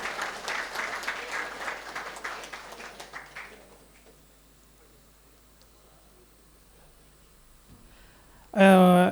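A small group claps for a few seconds at a hotel management institute's freshers' day event, the applause fading out into quiet room noise, with a sudden loud sound at the very end.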